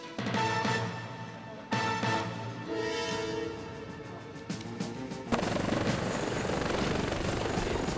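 A helicopter flies over a maritime police operation against illegal Chinese fishing boats at sea, its rotor roar loud and continuous, shifting into a steady broadband rush partway through.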